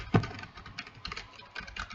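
Soft, quick tapping on a computer keyboard during a Friday Night Funkin' mod game, heard faintly as scattered clicks over low background noise.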